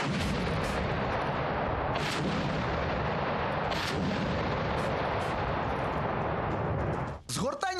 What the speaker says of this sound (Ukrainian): Підкоригувавшись, по ворогу випускають решту снарядів